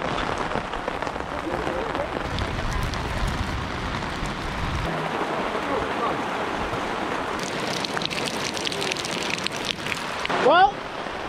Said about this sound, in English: I'd say it's raining hard.